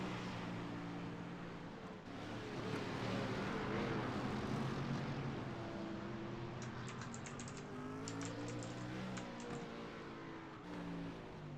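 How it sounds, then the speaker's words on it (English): A large, loud mechanical keyboard clatters with bursts of rapid keystrokes during a sim racing broadcast at VIR, under a constant engine drone, with no one speaking. "I have a rather large, loud mechanical keyboard"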